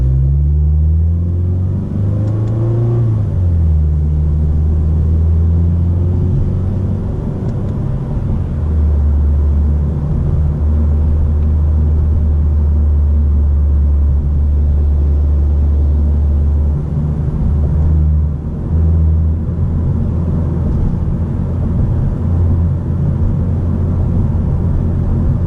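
A car engine with a regular air filter accelerating, heard as a loud, steady low rumble with rising and falling engine tone over about twenty-five seconds, captured close inside the car.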